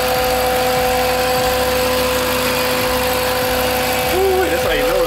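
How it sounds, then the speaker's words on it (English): A supercharged Hemi V8 in a Dodge Hellcat idles steadily with a low rhythmic loping pulse and whine, loud and close under an open hood, with a brief voice near the end. "Look under this hood. Boom. There we go, the supercharged Hemi."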